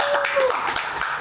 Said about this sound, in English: Round of applause for Big Muddy Farm.